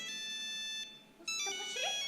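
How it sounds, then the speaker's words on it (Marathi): A phone's electronic ringtone plays during a Marathi stage play, a bright melodic tone held steady, pausing briefly, then resuming with a rising tune, fairly close and alone without talk. "कोणाचा फोन आहे ग?"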